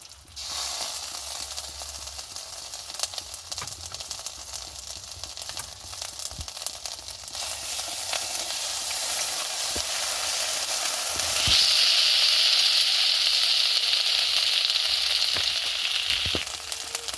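Ginger paste sizzles and crackles in hot oil for basanti pulao, a steady close frying hiss that swells louder partway through and runs on without talk.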